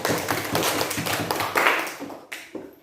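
A classroom of students claps together in quick, dense rounds of hand claps that stay fairly loud for about two seconds, then thin out and break into a few scattered claps before stopping.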